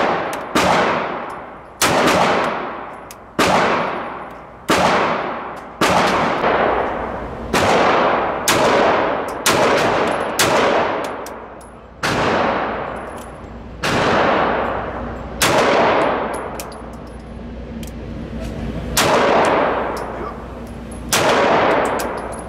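Pistol shots from Cosaint Arms 1911s chambered in 10mm and .45 ACP ring out loud and close, about fifteen sharp reports in a steady, unhurried string, each with a ringing decay and no talking.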